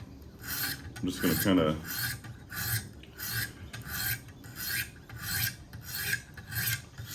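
An Emerson by Kershaw knife is honed on a Wicked Edge sharpener, with soft, even rasping strokes repeating in a steady rhythm, close and quiet. Someone speaks briefly near the start.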